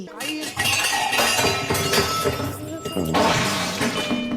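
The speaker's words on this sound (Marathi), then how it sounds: "भांड्या पाडले वाटतं त्यांनी" Pots and dishes dropped in a kitchen during a comedy sketch, a jumble of metallic clanks, clinks and crashes ringing close and loud, with voices talking over the noise.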